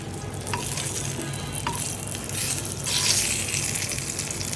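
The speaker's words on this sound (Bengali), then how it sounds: "সেই সাথে বেগুন ভাজা করলাম" Eggplant slices fry in a pan with a steady, close, broadband sizzle throughout, brief soft clicks now and then, and a louder hiss surge near the end.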